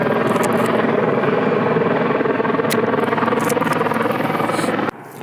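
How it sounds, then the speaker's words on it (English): A helicopter flying low near a hospital, its loud rotor chop and engine roar dominating steadily throughout, close and pulsing, with a sudden brief drop near the end. "So the helicopter's actually on its way."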